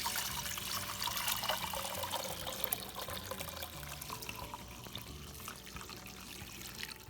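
Maple syrup being poured through a filter, with a steady splashing, trickling stream of liquid that continues evenly throughout, close by with no talking.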